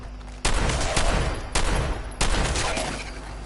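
Gunfire in Fallout 4 with the Mad Rock mod sounds as three loud, close bursts of rapid shots, each rolling and fading before the next, with no voices over them.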